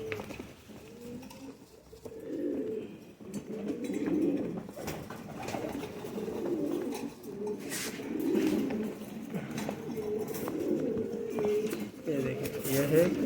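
Kaasni pigeons at a Pakistani pigeon seller's loft coo in low, repeated rolling calls throughout. The cooing sounds close and fairly soft, with faint background noise and no clear talk over it.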